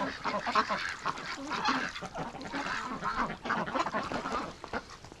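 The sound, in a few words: pet ducks quacking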